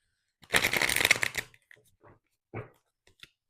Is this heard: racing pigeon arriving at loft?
no